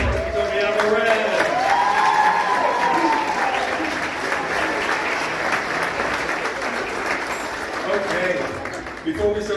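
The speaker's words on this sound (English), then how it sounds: "I want a big round of applause for Toby Alvarez" A gala crowd at the California Maritime Academy Foundation event breaks into loud, sustained applause with some cheering, while a voice carries over the clapping for the first few seconds.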